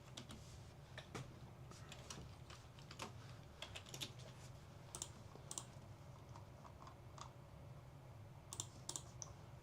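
A computer keyboard clatters under quick, irregular typing, soft close key taps in short bursts with brief pauses, faint and without speech.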